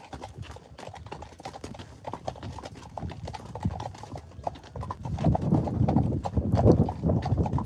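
Hooves of black Friesian horses clip-clop steadily on a live ride-and-lead outing, a near, uneven rhythm of hoof strikes that grows louder and busier toward the end, with no talk over it.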